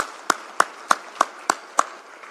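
A conference audience claps in unison: six sharp, evenly spaced claps in a quick steady rhythm, with nothing else in between.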